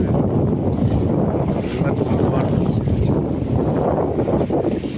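Strong wind roars continuously against the microphone, a heavy, gusty rush with a faint watery wash underneath and no clear talk.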